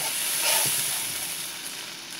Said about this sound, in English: Allow that to saute for about 2 to 3 minutes.